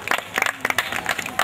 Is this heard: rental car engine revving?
no